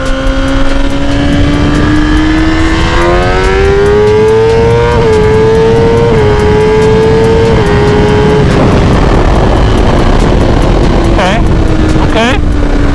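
A street-tuned car accelerates hard through second gear, its engine note climbing loud and close, then dropping off near the end with a brief pop or two. A voice speaks over it.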